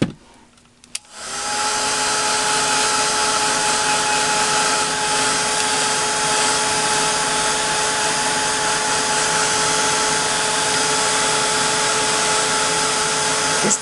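A hair dryer blows over mixed media and texture paste on watercolor paper. After a brief click it starts and holds a steady, loud, close whir for the rest of the time.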